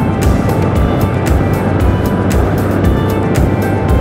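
Motorcycle riding along highway BR-367 in Minas Gerais, a steady loud roar of engine and rushing wind that fills the whole clip without pause.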